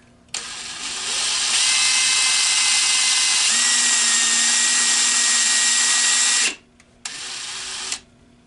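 A power drill starts and whines loudly for several seconds as it bores in, stops briefly, then runs again in a short burst.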